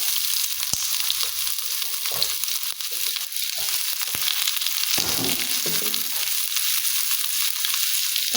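Onion hits hot oil in a heated pan with a loud, continuous hiss of frying, steady throughout, with a few faint clicks and a brief stir in the middle; nobody speaks.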